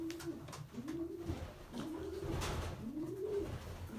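Belgian racing pigeons coo in a loft, several rising, rolling calls repeating at a steady pace, close and soft, with faint rustling behind.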